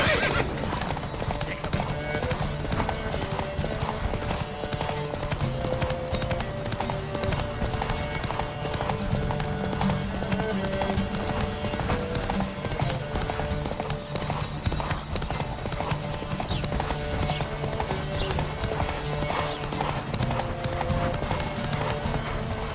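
Horses gallop in a video game race in The Witcher 3: Wild Hunt, a steady, continuous clatter of hooves, loud and close, with occasional whinnies and voices shouting over the pounding.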